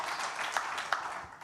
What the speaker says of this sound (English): One more round of applause for Usman for hosting a great panel.